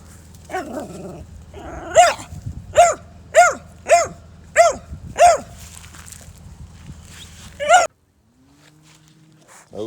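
A dog barks at a snake in eastern South Carolina: seven sharp barks in a regular rhythm, then a pause and one last bark, all close and loud over a low hum and growly undertone, then near silence.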